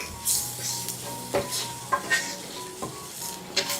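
Spice powders being stirred in a pan for egg puff filling: a soft, steady sizzle with scattered clinks and scrapes of a spoon against the pan, fairly quiet and close, no voices.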